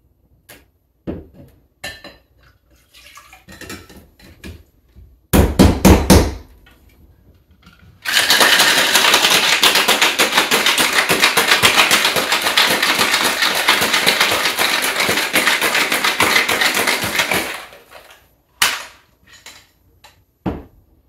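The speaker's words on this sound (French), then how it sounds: "On envoie tout ça au shaker et on va brasser jusqu'à ce que ça soit bien froid." A cocktail shaker packed with ice is shaken hard while mixing an Alexandre le Grand cocktail. It makes a dense, steady rattling wash for about ten seconds, with scattered clicks and knocks before and after.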